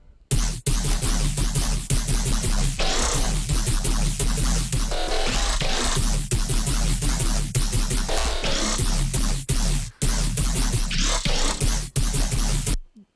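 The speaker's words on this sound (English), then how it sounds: "each dubstep growl has to be treated as if it's like a percussion" Loud, dense dubstep bass with snarling, wobbling growls chopped into rhythmic stabs over a pounding beat, filling the whole clip.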